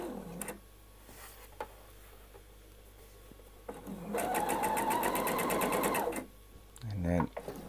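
Close sewing machine stitching around a curve on a Lou Lou dress, a fast rhythmic mechanical chatter running for about two seconds, framed by someone speaking before and after.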